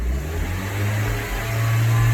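Car engine revving up and holding at higher RPM as the throttle is pressed, a loud, close, steady mechanical roar with a rising pitch step partway through, with no talking.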